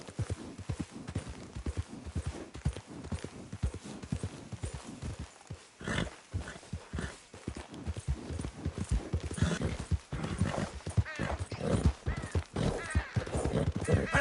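Horse hooves gallop in a fast, steady clip-clop rhythm in Red Dead Redemption 2, loud and close throughout, with a brief whinny partway through and no talk over them.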